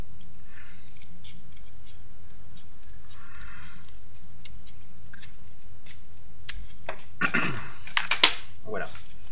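Scissors cutting through a folded paper booklet, several crisp snips close by near the end, after a quieter stretch of faint handling noise and a soft background hum.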